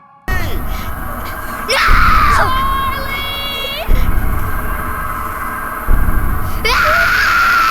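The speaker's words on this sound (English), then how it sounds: "tendrils spawn from the trees and start chasing after Charlie, as he screams in terror" Charlie, a character in a Slender video game, screams in terror several times as tendrils chase him, loud high cries rising and breaking in repeated bursts over a dark rumbling game backdrop.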